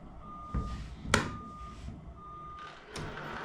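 A Tamiya Mercedes-Benz 4151 RC truck's sound unit plays a steady reversing beep in two spaced runs while the model backs up, mixed with soft mechanical clicks and thumps at moderate volume.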